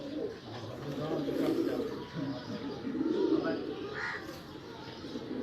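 Pigeon cooing, a grey youngster bred from a black father among racing pigeons, sounds as low soft rolling coos that repeat through the clip alongside other bird calls, with faint background voices.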